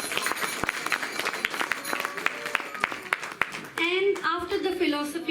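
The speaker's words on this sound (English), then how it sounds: "So we should also give a round of applause for his efforts." An audience at a school annual day celebration in Calgary applauds with scattered, fairly soft claps for several seconds before a voice begins speaking over the tail.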